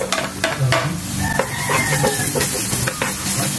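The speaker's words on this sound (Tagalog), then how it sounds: "inuna na natin yung luya. I-brown lang po natin ito" Ginger sizzling and frying in a pan as it browns for Bicol Express, a steady loud crackle with repeated clanks of a spatula stirring against the pan.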